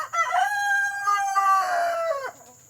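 A rooster crows once in a long, clear cock-a-doodle-doo, loud and close, standing alone with no talk over it.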